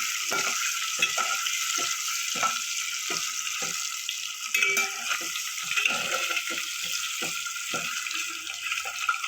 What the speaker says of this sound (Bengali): ডিমটা একটু লাল লাল করে ভেজে নিতে হবে।